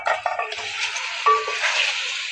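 Raw chicken goes into a pan of softened onions for a ginger black pepper chicken karahi and is stirred, with close clattering, scraping and a light sizzle.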